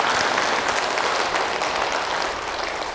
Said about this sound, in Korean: 그때는 좀 박수를 좀 치야지.